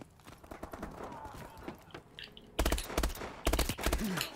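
Pistol gunfire in Call of Duty: Advanced Warfare, two loud bursts of rapid sharp shots near the end after quieter game noise and faint talk.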